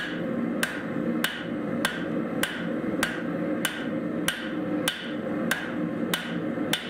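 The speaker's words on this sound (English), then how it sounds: "now I'm just hitting the edge of the anvil, trying to thin down that area right behind what I isolated" Steel being thinned by hammering on the edge of an anvil: about eleven evenly spaced, sharp metallic blows roughly every 0.6 seconds over a low background hum, nearby, with no speech.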